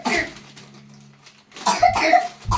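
A child coughs in a couple of short bursts, close up, with a quiet stretch and a faint hum between them.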